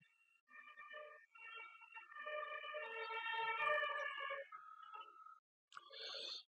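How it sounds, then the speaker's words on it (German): Police car and ambulance sirens pass by on a street, overlapping wailing tones that swell, hold, then cut out and briefly return, heard alone without talk. "fährt die Polizei und der Krankenwagen Feuerwehr vorbei"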